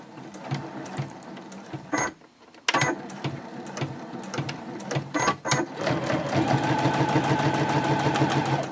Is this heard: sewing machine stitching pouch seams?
yes